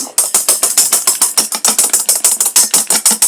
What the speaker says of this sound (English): But I enjoy whisking my egg whites